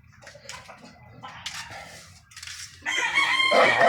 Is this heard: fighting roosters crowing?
yes